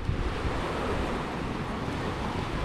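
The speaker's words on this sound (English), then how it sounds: "The sea is definitely not as rough as what it was before" Sea waves wash ashore at Sabang, Puerto Galera, after rough weather, making a steady broadband roar of surf mixed with wind noise.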